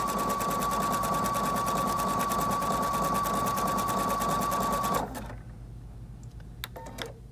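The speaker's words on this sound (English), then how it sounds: "I'm going to raise my presser foot, place my fabric under, lower my presser foot, and go ahead and start stitching" A Viking Brilliance 80 sewing machine runs a zigzag stitch in one steady, fast, close stretch, then stops abruptly, leaving quiet room tone with faint clicks.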